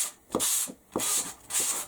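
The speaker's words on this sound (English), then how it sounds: "give it a bit of a sanding" Hand sanding a metallic painted box frame, three rhythmic back-and-forth rubbing strokes of abrasive paper, close and fairly quiet, with short pauses between passes.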